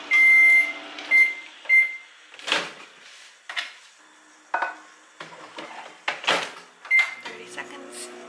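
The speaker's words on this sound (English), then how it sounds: "Just put everything in the microwave" A microwave beeps several times, high electronic tones, amid clattering, rustling and thumping kitchen noises, with a long quiet stretch between beeps.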